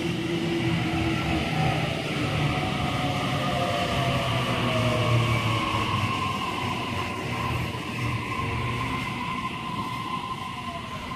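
A Sydney Waratah electric train, set A16, arrives at platform 3 of a suburban station on an Epping service, a steady loud rumble of wheels and motors with a drawn-out squealing brake whine throughout, no voices.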